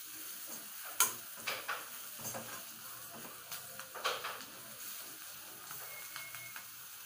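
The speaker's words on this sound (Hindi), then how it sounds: "अब इसको हम मिक्स कर लेते हैं।" Soybean paneer mixture with coriander and red chili is stirred in a pan, with soft scraping and occasional clinks over a faint sizzle.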